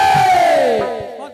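A crowd at a jawabi kirtan, a devotional singing contest, lets out one loud, drawn-out collective cheer that slides downward in pitch and fades, close and with no other speech.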